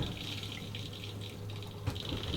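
Filtered water trickles and gushes steadily into a water bottle aboard a sailboat, a faint, close, continuous pour with a small splash near the end.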